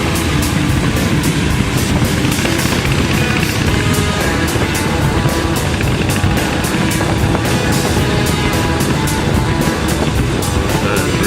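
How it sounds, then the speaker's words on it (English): Car engine and exhaust on a road trip to Betong, Thailand, a loud, steady droning rumble with a rhythmic throb as the car labors up a tight uphill climb. "I love the sound of the exhaust as we climb"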